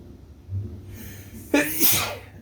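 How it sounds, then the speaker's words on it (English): A single loud, close sneeze with a short breathy build-up followed by a sharp explosive burst. "I got a sneeze stuck"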